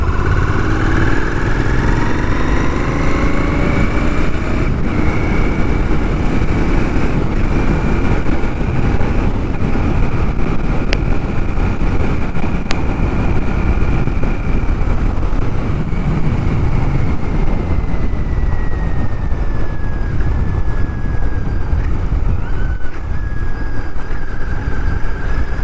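Royal Enfield Continental GT650 motorcycle on the move at dusk, a steady loud engine drone mixed with broadband road and front tyre roar that runs unbroken throughout, with no talking.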